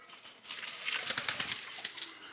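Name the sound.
pigeons in a pigeon farm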